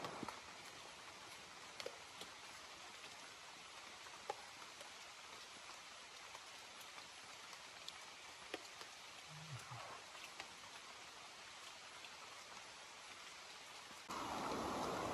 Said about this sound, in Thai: ฝนตกหนักทุกคนเลย